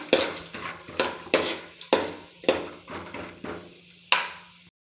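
Peanuts frying in a pan, with a spatula scraping and clattering against it in a steady rhythm, about eight strokes, over a soft sizzle.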